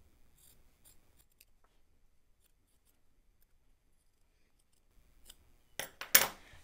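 Scissors trim and clip fabric around a sewn dress collar: faint, scattered snips at first, then after a long near-silence, a few louder, close cuts near the end.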